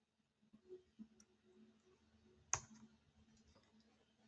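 A single sharp computer mouse click while selecting a spreadsheet cell, heard close and crisp against a very quiet background with faint earlier ticks.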